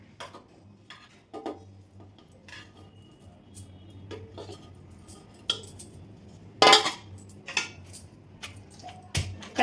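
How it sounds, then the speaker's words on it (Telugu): A grinding stone pounds onion pickle (ulli maagaya) in a stone mortar, giving sparse, irregular hard knocks and clinks, some louder and sharper, over a quiet background. "మనం తీసి పెట్టుకున్న మాగా ఏదైతే ఉందో అది దీంట్లో వేసేసుకుని బండతో బాగా దంచేయాలన్నమాట."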